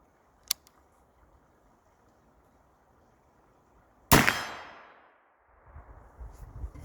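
A single sharp report from a Crockett .32 black powder rifle, followed by a ringing clang of the ball striking a steel plate, then a long fading decay, with faint handling noise before and after.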